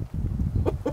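Backyard chickens cluck softly at close range, a few short low clucks in quick succession over about a second, fairly quiet.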